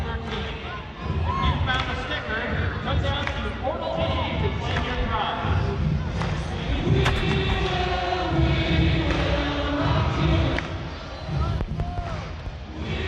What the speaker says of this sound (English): Not quite as big a crowd tonight as we had for the Utah one last week.